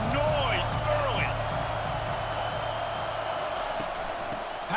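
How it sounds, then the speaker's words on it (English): A video game stadium crowd in EA Sports College Football 25 roars steadily in the background, with cheers and whoops rising over a continuous wash of noise while commentary plays. "This crowd bringing the energy and noise early."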